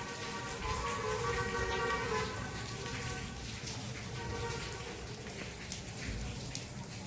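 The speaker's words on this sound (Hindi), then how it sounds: "और बहुत तेज़ बारिश हो रही है और मौसम बहुत ख़राब है" Heavy rain falls outside in cold, stormy weather, a steady dense hiss with a low rumble underneath. It stays constant throughout, with a faint tonal hum in the background.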